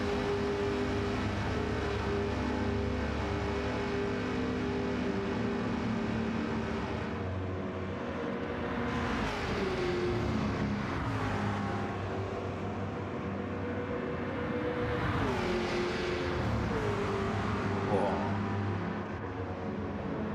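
A Ford Boss 429 engine in a racing video game, a steady droning rumble with rising and falling rev swells, sustained throughout at moderate level without talk.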